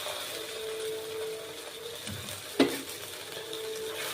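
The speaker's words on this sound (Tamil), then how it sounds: "இஞ்சி பூண்டு பேஸ்ட்டு போட்டு நல்லா வதக்கியாச்சு" Ginger garlic paste and onions sauté for biryani, a soft steady sizzle under faint scraping of a spoon, with one sharp clink of metal against the pan midway.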